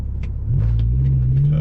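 A BMW M6 with its V10 launching hard from a standstill, the engine note surging and rising steadily in pitch as it accelerates, loud and close from inside the car.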